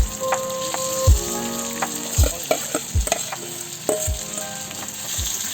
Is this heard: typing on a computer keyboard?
no